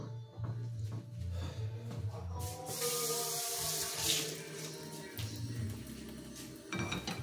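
Water mixed with vinegar pours into a cooking pot at a kitchen sink, a steady splashing stream with clinks of cookware, close and moderately loud.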